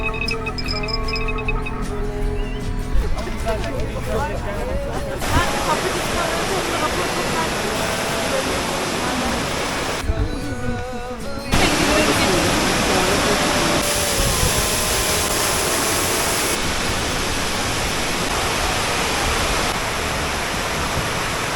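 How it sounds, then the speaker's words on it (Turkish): Aydın Pınar Waterfall in Turkey roars with constant, dense rushing water that fills the whole scene, and voices come through faintly at times. "Muhteşem bir şelale, muhteşem bir yürüyüş yolu."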